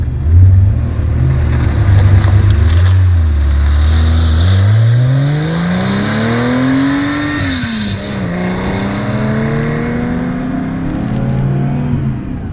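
A 1979 Porsche 911 resto-mod with 350 horsepower, weighing about 2,300 pounds, revs hard as it is wound out through the gears, the engine note climbing in a long loud sweep, dropping at a shift and pulling again.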